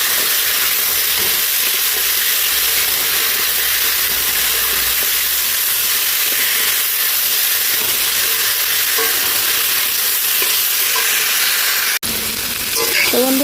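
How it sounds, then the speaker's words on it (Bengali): Spices sizzle and fry steadily in hot oil for a rohu fish curry, a constant close hiss broken near the end by a brief scrape of stirring. "মশলাটা আমার ভাজা হয়ে গেছে"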